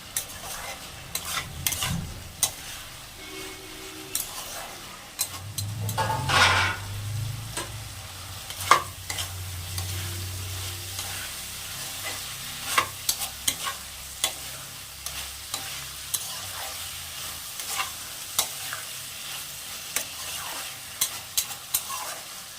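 Amudi fish curry with potatoes and onion stalks is stir-fried in a pan: intermittent spatula scrapes and clicks over a soft sizzle that swells briefly in the middle, with no voices.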